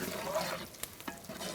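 Cashews and raisins are stirred in a pan of hot fat for rava kesari, giving a faint sizzle with soft scraping strokes.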